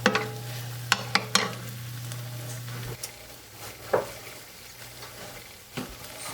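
Vegetables sauté in a pan with a soft, continuous sizzle, punctuated by a few sharp clacks and scrapes from stirring, no voices.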